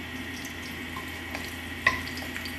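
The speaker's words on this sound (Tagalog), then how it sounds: "Magigisa." Garlic sautéing in hot cooking oil in a pan: a steady soft sizzle with a faint clink or stir near the middle, close and continuous, with no talking.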